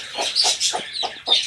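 Several hens shut in a farm coop on a cold winter day give a run of overlapping clucks, fairly close and steady across the whole stretch with no talk.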